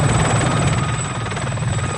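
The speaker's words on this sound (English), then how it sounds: "So this is the surviving helicopter." A helicopter in the film Rambo III gives a loud, steady rotor chop with a dense whirring drone throughout, close and unbroken by talk.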